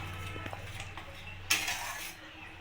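Garam masala being stirred into shahi paneer in a pan, with a few soft spoon scrapes and clinks against the metal and one brighter scraping clatter midway. The sounds are close and fairly quiet, and no one speaks.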